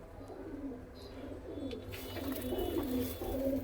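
A Panjabi white pigeon with yellow eyes, a young bird of the Malwai chatri type, coos softly in a low, steady murmur that continues throughout, with no voices heard.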